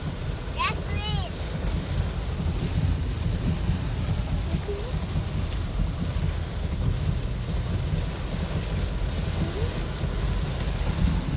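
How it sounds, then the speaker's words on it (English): Heavy rain pours steadily over a flooding creek by a highway in San Fernando, Trinidad and Tobago, a dense constant roar with a brief high whistling sound early on and no clear thunder. "That's rain."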